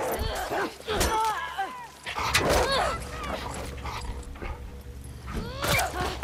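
A dog in The Last of Us Part II barks, yips and whines in repeated bursts, fairly close and loud, with people talking over the calls.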